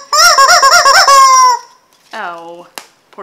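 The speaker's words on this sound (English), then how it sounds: "Oh, poor chicken. Shrilling chicken." A chicken caught in a net gives loud, close, shrill clucking: a rapid pulsing burst that stretches into a long squawk, then a shorter cry and a brief sharp squeak.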